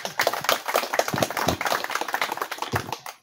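Applause for a municipal agent at a groundbreaking ceremony for an electrical grid expansion in Ribera San Jorge: a few seconds of fairly close, irregular hand clapping from a small gathering, with no voices over it.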